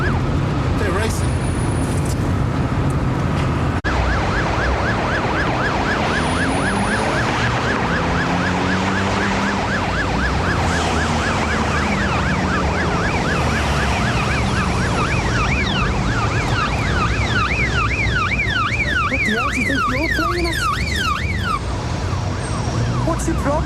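Wailing police and ambulance sirens from cars racing through London streets sweep up and down continuously, loud and near, over engine noise while people talk.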